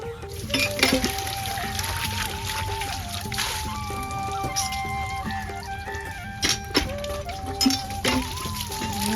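A wok (kadai) being washed with water at a sink, with running and pouring water, trickles and clinks of metal, and a faint voice now and then in the background.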